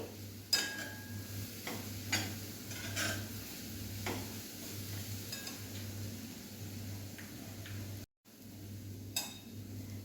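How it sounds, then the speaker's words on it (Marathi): Melting jaggery is stirred in a pan over a medium flame, with soft, sparse scrapes and clinks of a utensil against the pan over a low steady hum, quiet and close, with no talking. "आणि छान गुळ वितळेपर्यंत आपल्याला हे छान मिक्स करून घ्यायचं आहे"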